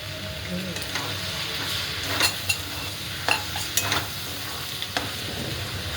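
Steady loud sizzling as a little water is poured into a hot pan of pasta and masala, with occasional scrapes and clinks of a utensil stirring; no talking.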